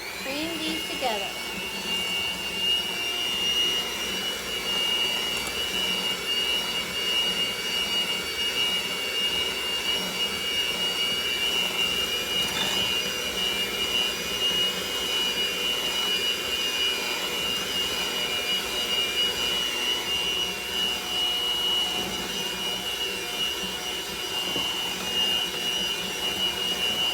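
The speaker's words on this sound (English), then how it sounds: "My hand whisk. Okay. And I'm just going to cream these together." Electric hand whisk creaming brown sugar for chocolate chunk cookie dough, a steady high motor whine running unbroken and fairly close for the whole stretch with no pauses.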